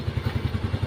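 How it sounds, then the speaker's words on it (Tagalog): A motorcycle engine idles while warming up, its low, steady putter close by and alone, with an even pulse of firing strokes. "Ito po, nagpapainit po ng motor si Kabuntod"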